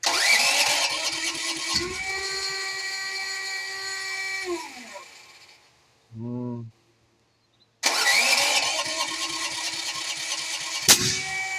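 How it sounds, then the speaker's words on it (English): An engine fed from 100 lb tanks cranks and runs, cuts out, then a short burst of sound stands alone in the quiet before the engine starts again loudly, with a sharp pop near the end. "There's a backfire."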